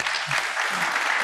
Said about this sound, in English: Please join me applauding our panelists.